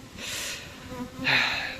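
Steady insect buzzing from many honeybees at an open hive, a dense hum that swells louder toward the end, close by with no talking.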